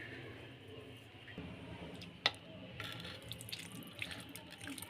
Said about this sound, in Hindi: ये हम अदरक लहसुन का पानी इसमें डाल रहे हैं।